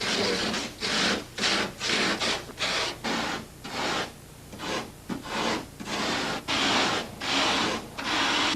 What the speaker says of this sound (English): model maker Mike Hosh carve the rough structures of the canyon cliffs out of 8-foot pieces of foam